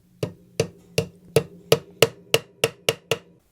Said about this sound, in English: Take our little brass hammer.